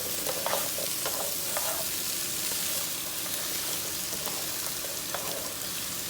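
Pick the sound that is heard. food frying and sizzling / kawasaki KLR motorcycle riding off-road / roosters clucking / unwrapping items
food frying and sizzling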